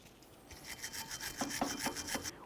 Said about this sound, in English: We'll use a wire brush.